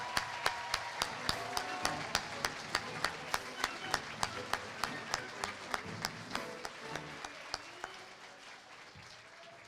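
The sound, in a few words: audience applause for graduates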